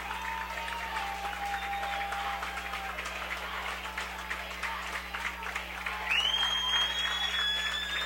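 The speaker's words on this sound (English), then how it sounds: "Aces faithful making some noise on the sideline here." Home football fans cheer and clap from the sideline at a high school varsity game between Hicksville and Tinora: a sustained wash of crowd applause and noise, with a whistle-like tone rising near the end.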